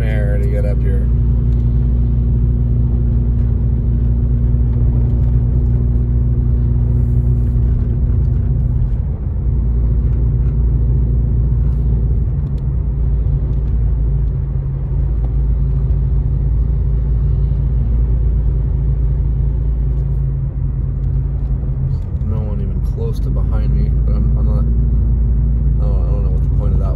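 A car drives a snowy mountain road near Big Bear in heavy traffic, a continuous loud engine and road rumble from inside the cabin, with a person talking over it throughout.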